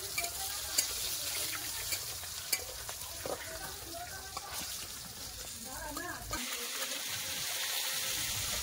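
Fish and pointed gourd frying in a pan, a continuous moderate sizzle with occasional clinks and stirring, and a voice talking over it.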